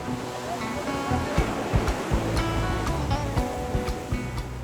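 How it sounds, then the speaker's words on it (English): Ocean swell breaking around a seaside mosque on a calm day, a continuous broad rush of surf with repeated heavier thumps and crashes, fairly loud and steady without talk. "Massive breaking swell, breaking all around the mosque."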